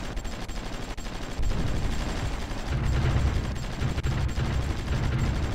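Artillery fire in the Supreme Ruler Ultimate strategy game comes as a steady, dense barrage of thuds and rumbles. It stays continuous and moderately loud and grows heavier after the first second or so.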